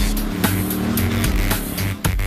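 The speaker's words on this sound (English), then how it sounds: "this Scorpion tears up the track with a hydrogen internal combustion system" Ronn Scorpion supercar with a hydrogen internal combustion engine drives on a track, a close, loud engine note with quick surges and pulses over about two seconds.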